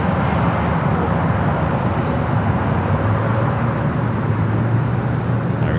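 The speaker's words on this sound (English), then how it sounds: "There, we got that Dreamliner heading to Newark, now rolling down the 25 at right." A Boeing 787 Dreamliner rolls down the runway at LAX, a loud, steady jet engine roar with deep rumble holding across the whole stretch.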